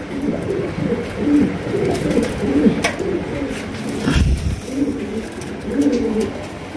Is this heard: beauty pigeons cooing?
yes